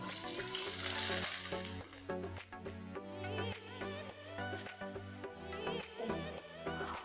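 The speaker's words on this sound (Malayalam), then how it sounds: "ചൂടായ എണ്ണയിലേക്ക് ഞാനൊരു 1 ഇഞ്ച് നീളമുള്ള ഇഞ്ചി ചോപ്പ് ചെയ്ത് ചേർത്ത് കൊടുക്കുന്നുണ്ട്" Chopped ginger, about an inch's worth, hits hot oil in a Kerala-style squid roast pan, giving a bright sizzle that is strongest in the first two seconds and then carries on beneath steady background music.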